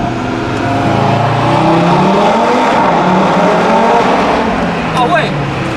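A 400-horsepower Audi RS3 sedan accelerates hard through a tunnel, its engine note climbing loud and echoing, the roar sustained for several seconds with a brief shift near the end and voices mixed in.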